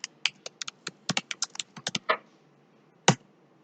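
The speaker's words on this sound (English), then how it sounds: "You can just click on the cell and start typing" Typing on a computer keyboard while entering data into a spreadsheet: a quick run of close, crisp key clicks, then a pause and one final louder keystroke, with no talk.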